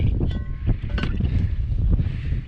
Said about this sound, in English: It is super windy out here today